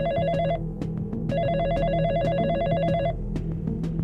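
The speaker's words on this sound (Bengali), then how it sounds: "সাথে সাথে সৃজনীর ফোন এলো।" A telephone rings loudly and close with an incoming call, two repeated bursts of a trilling electronic bell over a low background hum.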